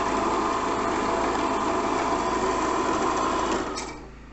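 An electric drill running on power from a 3 kW Inforce petrol generator gives a steady, loud whirring hum, then winds down sharply near the end as it is switched off.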